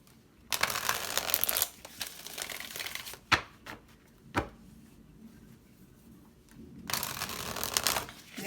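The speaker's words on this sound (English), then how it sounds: "One more shuffle." Tarot cards being shuffled by hand, with two long bursts of dense riffling and a few sharp taps and slaps between them, close and clear with no talk.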